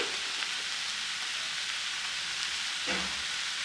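A palya mixture cooking in a pan gives off a steady, even sizzle with a faint stirring scrape near the end, close and moderately quiet, with no voices.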